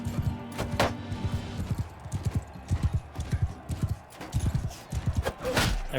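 Horse hooves clip-clopping at a gallop in the medieval combat game Mount & Blade II Bannerlord, steady rhythmic thuds close by, with a brief whinny early on and clashing battle noise mixed in.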